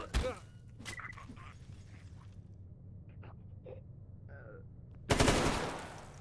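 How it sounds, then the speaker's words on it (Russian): Gunfire in the video game S.T.A.L.K.E.R. GAMMA: a sharp shot at the start, then a loud burst near the end, separated by quiet stretches with faint movement and breathing. "Чел на упреждение стреляет."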